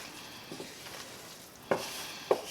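Raw flour cooking in a pan for chicken francaise gives a low, steady sizzle with soft stirring scrapes and two sharper utensil clinks near the end.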